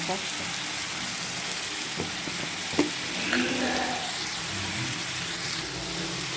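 Onions fry in hot oil for a dried Bombay duck thecha, giving a dense, steady crackling sizzle up close, broken by a few soft clinks of a spoon on the pan.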